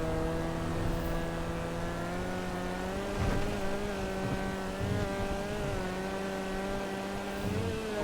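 A car drives in the video game GTA Online, its engine holding a steady, moderately loud drone with slight pitch wobbles and no voices over it.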